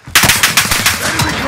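Rapid automatic gunfire from Call of Duty: Modern Warfare, a loud, close string of sharp shots in a fast steady rhythm lasting about a second and a half.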